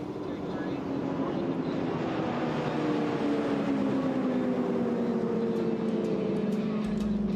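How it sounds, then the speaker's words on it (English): An outboard race boat engine with open exhaust drones steadily throughout a shootout race event, its pitch sliding gradually downward as it runs past, loud and continuous with no clear talk. "Once again, you can hear the exhaust. Yep, you got the open exhaust."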